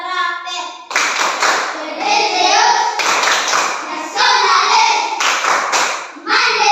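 Elementary school children at SD Negeri Sonraen clap a rhythmic class cheer, loud bursts of group clapping mixed with shouted chanting voices, close and energetic.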